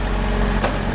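Diesel engine of a Schwing BPA450 concrete pump running steadily at a jobsite, a loud continuous low rumble with a slight surge near the end, no talk.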